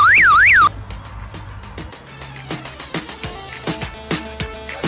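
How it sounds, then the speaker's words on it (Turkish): A car alarm wails briefly in a rising-falling electronic tone, loud and close, then cuts off, leaving scattered clicks and soft background noise. "sakıza bile alarm taktık"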